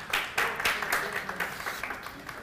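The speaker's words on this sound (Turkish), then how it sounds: "O zaman bir böyle hafif orta şiddette bir alkış duyalım mı?" Light, sparse clapping from a small studio audience on a Turkish morning TV show, a few scattered claps that rise and fade in soft uneven bursts.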